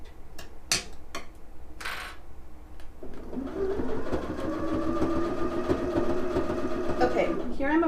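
A sewing machine stitches fabric while a Stitchy Stick guides it, starting after a few scattered clicks and handling noises and settling into a steady humming whir that continues to the end.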